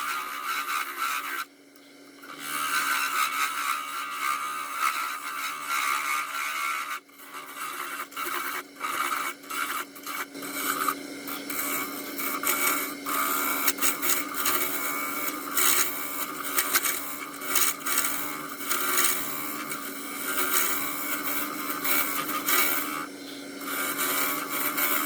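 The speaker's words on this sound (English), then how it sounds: "I was running that roughing gouge over that, I thought the whole thing was going to snap in half" Roughing gouge cutting a spinning wood blank on a lathe, a continuous loud scraping, rasping roar with brief pauses and bursts as the tool engages, near and alone without talk.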